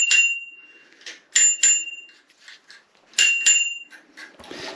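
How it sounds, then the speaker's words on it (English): A bicycle bell on a bike kept in a kitchen is rung in several quick bright dings, grouped in two bursts with gaps, close and loud, with a brief rustle at the end. "Why are you playing with your bell?"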